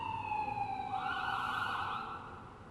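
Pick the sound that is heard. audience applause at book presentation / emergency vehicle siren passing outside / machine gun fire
emergency vehicle siren passing outside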